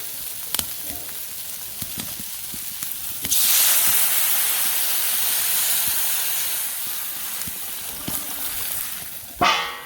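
Ghee poured into a hot pan of vegetable curry with tilapia sets off a sudden loud, broad hiss and sizzle that holds steadily for several seconds, then eases slightly, with light clinks before and a sharp clatter at the end.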